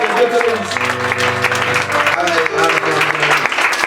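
Loud, sustained applause from a church congregation welcoming an evangelist, filling the whole stretch under an organ or keyboard chord and other music, with voices mixed in.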